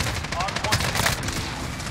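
Rapid bursts of gunfire in the shooter game Modern Warfare, dense crackling shots over a loud, continuous wash of battle noise.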